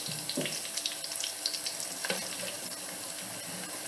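Cumin seeds sizzle and crackle in hot oil, a dense steady hiss with scattered pops, heard close up and with no talking.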